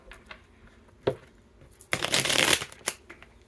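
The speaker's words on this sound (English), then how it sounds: "Oh, I know I'm terrible at shuffling." Playing cards being shuffled by hand, with a few soft riffles early on, then a loud, dense burst of card flutter in the middle and a final snap, close up with no talking.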